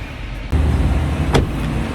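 Hyundai Tucson parked at a pier, its engine idling with a steady low rumble, a door-like thump near the half-second mark and a brief higher whine or click a moment later, close by.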